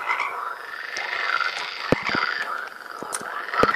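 Frogs croak in a dense, rasping chorus of overlapping calls, with a couple of sharp, louder clicks standing out near the listener.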